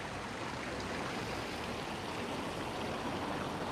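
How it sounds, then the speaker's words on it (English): Water flows steadily through a garden water feature in Union Terrace Gardens, Aberdeen, Scotland, a constant, moderately loud rushing wash with no voices. "It's a beautiful water feature, it really is"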